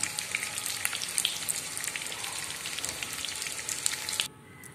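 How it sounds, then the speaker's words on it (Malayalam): Chicken pieces frying in hot oil, a dense, crackling close sizzle with popping spatters that runs steadily and then drops abruptly to a faint hiss near the end, no speech. "ഈ ചിക്കൻ ഒന്ന് ഫ്രൈ ആയി വരണം അതിനുവേണ്ടി നമുക്ക് വെയിറ്റ് ചെയ്യാം"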